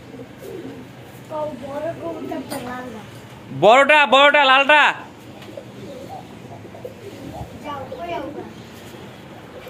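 Pigeons at a seller's, including a very large, high-priced bird, break into a loud, close burst of rolling coos for a second or two, with voices talking before and after.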